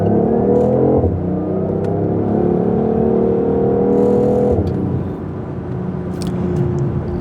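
A BMW i8 accelerating along a curvy road, its engine heard from inside as a loud rising whine and drone, with two clear gear shifts, the pitch stepping up after each.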